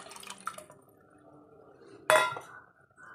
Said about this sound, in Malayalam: നമ്മൾ കുറച്ച് കുടംപുളി വെള്ളത്തിട്ടുണ്ടായിരുന്നു ഒരു അഞ്ചാറ് അല്ലി മതിയാവും നമുക്ക് ഒഴിച്ചു കൊടുക്കാം